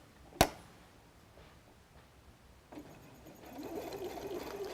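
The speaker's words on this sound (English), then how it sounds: "I just want to sew this fold. So I put it into my machine." A sewing machine stitches down a fold on a messenger bag, its steady whirring beginning quietly and building near the end after a sharp click at the start.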